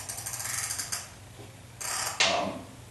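A hand ratchet wrench clicks in quick, rhythmic pawl bursts while loosening bolts during gas tank and fuel line removal on a 1976 Corvette, close and clear, with a brief metallic scrape near the end and no talk.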